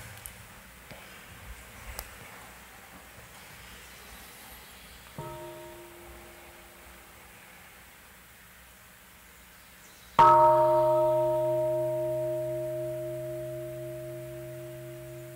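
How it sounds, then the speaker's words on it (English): A meditation bell is rung twice during a monastic retreat talk, the first strike softer, the second louder, each leaving a clear, sustained ringing tone that slowly fades in otherwise quiet surroundings. "So let us enjoy a sound of a bell."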